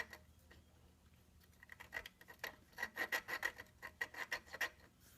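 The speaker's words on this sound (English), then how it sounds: "I'm finished lapping the valve." Valve lapping on a 1954 Briggs & Stratton engine gives a soft, rhythmic rasping, back-and-forth grinding strokes that are faint and close, quickening into regular scrubbing with no voices.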